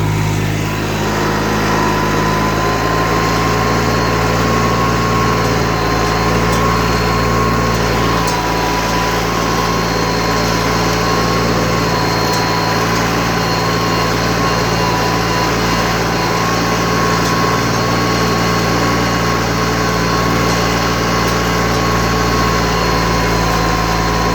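Tractor engine labouring in fourth gear at about 2000 rpm during autumn ploughing after the soybean harvest, a steady loud drone with a constant pitch throughout and no voices.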